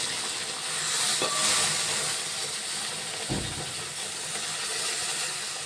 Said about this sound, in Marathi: कढई आपली गरम आहे हळूवारपणे आपण आता दूध ओतूया